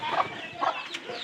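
Chickens clucking nearby, a few short, separate calls over a faint, steady background hum.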